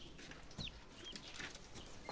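Chickens, including laying hens and young chicks, cluck and chirp faintly in a yard, with a few short, high calls over a low, steady background.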